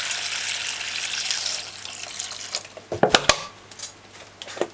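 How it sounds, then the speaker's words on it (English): Water poured from a tap or jug into a bowl of trimmed bok choy in a kitchen, a steady soft gush that gives way to a few sharp splashes and clinks near the end. "And then you just pour some water into this."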